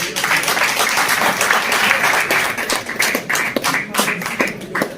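Audience applause rings out at the award ceremony of a Kashmir pigeon-flying tournament, dense steady clapping from many hands sustained throughout, with a voice speaking over it.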